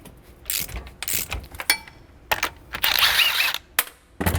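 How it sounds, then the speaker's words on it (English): A ratcheting socket wrench with an 18mm pass-through socket loosening the strut nut on a 2018-2024 BMW G01 X3 front strut, several close bursts of clicking ratchet strokes separated by brief pauses. "we're going to use the pass-through socket set using the 6mm Allen to counterhold the shaft of the shock, and then using an 18mm to release the nut"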